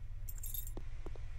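Keys jangling as they are picked up in a video game, a short bright metallic jingle followed by a couple of soft thuds over a constant low hum.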